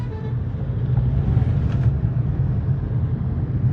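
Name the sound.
Mahindra vehicle driving and overtaking on road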